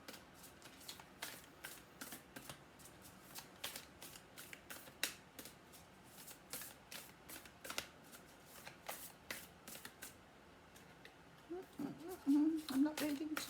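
A deck of oracle cards shuffled up close in quick, repeated riffling bursts for several seconds, soft and crisp, with a brief quiet voice near the end.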